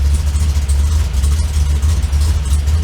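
A carbureted car engine fitted with a 4150 E85 carburetor idles in gear, a loud, close, steady low rumble with a slightly uneven pulsing beat.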